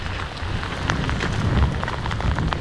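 Hail falling on a mountain path in the Pyrenees: a dense, steady pattering and drumming of ice on the ground, close and continuous with no voices.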